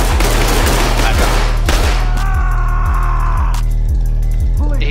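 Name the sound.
gunfire from enemies in SWAT video game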